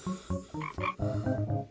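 A frog croaks in a video game, a quick series of about seven loud, close, throaty croaks in an uneven rhythm, with no talking.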